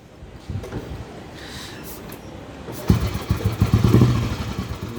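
Royal Enfield Bullet motorcycle engine after repair, low idle thumping that rises into a louder, rapid revving chug near the end, close by with no talking.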